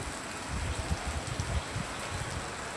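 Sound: rain

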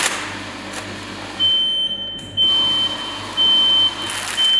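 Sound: needle detector alarm beeping as textile passes through

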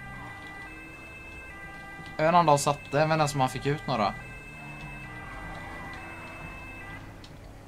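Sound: police sirens in video game GTA 5

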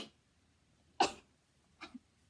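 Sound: sneeze

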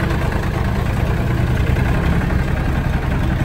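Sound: small John Deere tractor engine idling

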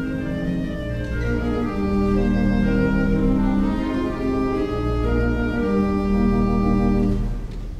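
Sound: theatre organ playing fourth chorus after key change

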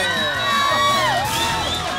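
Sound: audience applause and cheering

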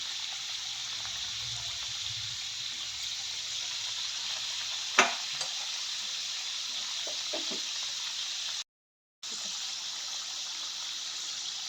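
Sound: bhujia frying in hot oil in a wok

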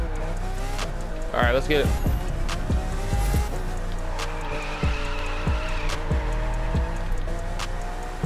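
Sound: car drifting with tire squeal in video game The Crew 2

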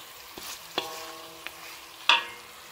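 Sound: stirring fish curry (gulai ikan siakap) in a pan

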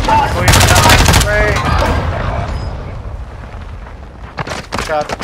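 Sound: shotgun firing in a video game

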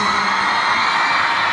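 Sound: concert crowd screaming

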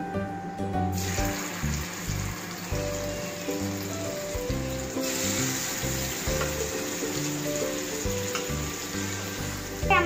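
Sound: chicken pieces frying in hot oil for samosa filling

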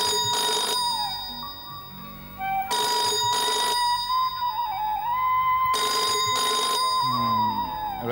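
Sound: telephone ringing

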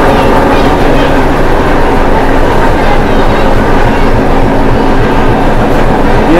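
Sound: diesel mountain railway train

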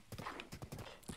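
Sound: horse hooves clip-clop in video game Zelda Breath of the Wild

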